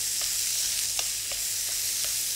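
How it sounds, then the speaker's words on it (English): Ginger and onions fry in hot oil over high heat, giving a loud, steady sizzle with a few soft stirring scrapes throughout. "we're going to add our ginger and onions into the oil"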